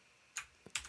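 Two quick bursts of keystrokes on a computer keyboard, close and crisp, over a faint quiet room hum with no talking.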